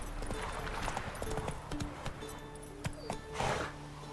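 Horse hooves clip-clop at a gallop in The Witcher 3 video game, a steady rhythmic beat at moderate loudness under ambient game sounds.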